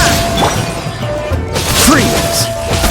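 A sharp glassy illusion-shattering burst in Genshin Impact, with a rising magical sweep, set among busy game effects and a voiced line.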